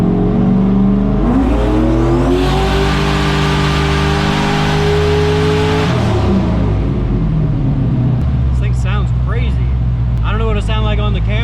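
A loud turbocharged small-block Buick V8 on a dyno drones and revs steadily, its pitch sliding up then dropping off, with higher turbo whining tones and some talk near the end.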